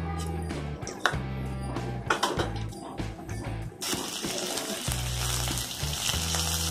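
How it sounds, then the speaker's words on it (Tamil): Mustard seeds and urad dal sizzle and pop in hot oil for peerkangai thokku, a steady close frying crackle with scattered spitting bursts. "கடுகுளுந்து முறை போட்டுக்கோங்க."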